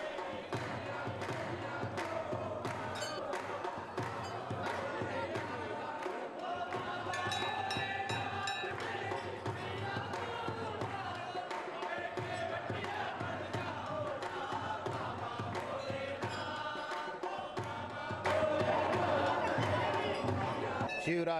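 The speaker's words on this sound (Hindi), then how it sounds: "जयपुर का चौड़ा रास्ता स्थित ताड़केश्वर महादेव मंदिर में सुवारे सो ही भक्तों की भीड़ लगी हुई है" A dense crowd of devotees packs the Tarkeshwar Mahadev temple on Chaura Rasta in Jaipur for Shivratri. A continuous loud murmur of many voices fills the space, with occasional thumps and a swell of louder chatter near the end.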